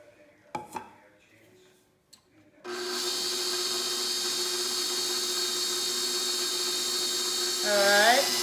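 An electric mixer whirs steadily through cake batter after a few clinks and quiet talk, a loud constant motor drone that rises in pitch near the end.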